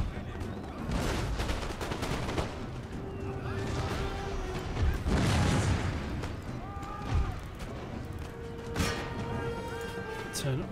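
Musket fire rings out during a siege battle for Rome in Empire: Total War: a dense, continuous crackle of volleys and booming shots under in-game music tones, with occasional louder bursts.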